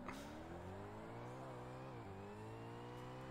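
A car engine in a Forza Motorsport race accelerates steadily, the pitch climbing with each gear and dropping briefly at a shift, loud, close and continuous with no talk.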